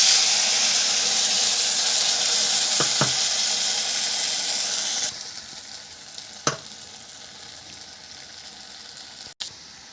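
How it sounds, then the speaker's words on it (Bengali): Spice paste of ground poppy seed, melon seed and cashew with ginger and green chilli poured into a hot pan, a loud bright sizzle that drops sharply halfway, then a quieter crackle with a few stirring knocks. "এই মশলাটা ঢেলে ঢেলে দিচ্ছি এবার।"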